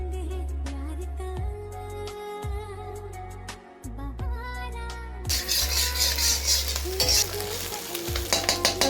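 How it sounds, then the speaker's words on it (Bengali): Five eggs fry together in hot oil in a kadai, with a steady sizzle under stirring and utensil scrapes, and a low hum underneath. The frying swells into a loud, crackling spatter in the second half. "তো এবার এক এক করে সব ডিমগুলো ভাজবে। 5টা ডিম একসাথে ভেজে নেবে।"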